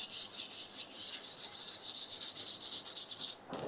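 Dirt being scrubbed off a truck's rear differential housing, a rapid rhythmic rasping close by that stops abruptly near the end.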